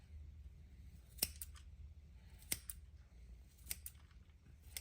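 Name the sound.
scissors snipping red lace mustard greens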